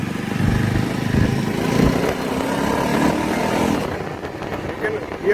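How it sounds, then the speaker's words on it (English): A 2020 Jawa Classic BS6 motorcycle engine running, a steady low throbbing drone, close and fairly loud, with someone talking over it. "You can hear the engine note."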